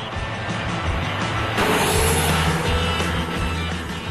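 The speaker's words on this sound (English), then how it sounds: "The roar of the engine is sure to set the hearts of sports car lovers racing" A Chevrolet Camaro sports car's engine roars steadily and loudly throughout, a rich low rumble that swells slightly midway as it drives along a country road.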